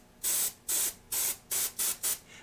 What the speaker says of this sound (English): I'm going to use my airbrush to kind of spray a little bit more down here